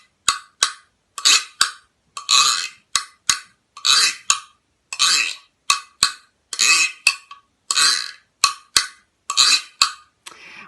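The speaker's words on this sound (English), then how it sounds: "I know all the students love playing the scraper because it has kind of a weird sound" A percussion scraper, a ridged instrument like ancient bone scrapers, is rasped in short bursts of a second or less, about fourteen strokes with brief clicks between them, close and fairly loud with no talking.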